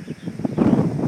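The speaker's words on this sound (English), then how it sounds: "It's a little windy." Gusty wind blowing outdoors at a horse round pen, a low, rough rumble that buffets the microphone and builds stronger in the second half, with no talking.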